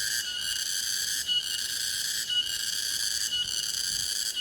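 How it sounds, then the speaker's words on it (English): Cicadas buzz in a steady, loud, high-pitched drone that swells in regular pulses about once a second, with no voices. "about the cicada sound in this place"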